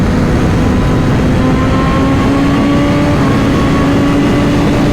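A Ducati Multistrada V4 RS motorcycle accelerating under a rider, a loud close engine drone rising steadily in pitch through the gears over rushing wind.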